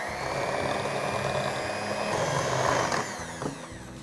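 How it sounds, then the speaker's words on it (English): A hand mixer creams softened butter and sugar for vanilla cupcake batter, giving a steady, close electric motor whine that holds evenly for about three seconds, then drops and wavers as the beaters move through the bowl. "take our butter that we have softened and we're gonna add our sugar. And then with a hand mixer or wooden spoon or fork,"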